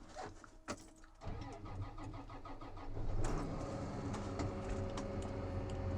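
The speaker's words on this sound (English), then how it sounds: "So we're gonna fire the Magnum up." Case IH Magnum farm tractor engine cranking with a few quick catches, then firing up into a loud, steady rumbling idle close by.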